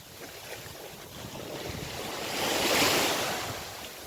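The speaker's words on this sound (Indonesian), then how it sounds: "Itu lautnya di depan teman-teman." Sea waves breaking along a coast with no beach at low tide, a soft steady wash with a gentle swell rising toward the end, faint and distant under some wind.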